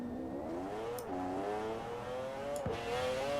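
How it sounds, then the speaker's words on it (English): A McLaren 600LT in Forza Horizon 4 revs and pulls through the gears, a rising and falling engine whine with one quick upshift dip. It is steady, moderately loud and continuous with no talking. "this is definitely the McLaren F1 engine in this thing"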